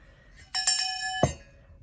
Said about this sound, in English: we've got this sweet little angel ornament. She's a bell.